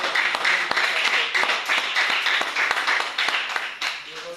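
A church congregation claps and applauds to acclaim the Lord, a steady run of sharp, fairly close claps over several seconds with voices mixed in beneath.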